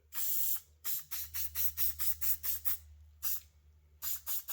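An aerosol can of mold release sprays in a quick series of short, sharp hissing bursts close by onto silicone dice molds, with a few brief pauses between the runs.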